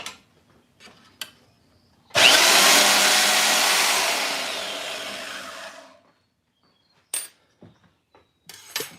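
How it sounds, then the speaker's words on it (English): A woodshop bandsaw starts abruptly, whines loudly and steadily for about four seconds while cutting, then shuts off into quiet with a few scattered clicks and knocks. "Bandsaw."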